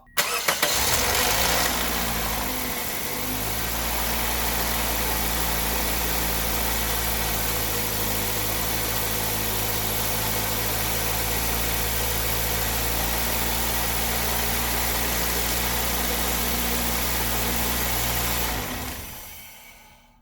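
2003 Toyota Corolla engine cranking and firing up after valve cover gasket, crankshaft seal and timing chain tensioner work, then settling into a steady loud close idle that cuts off near the end, no talking.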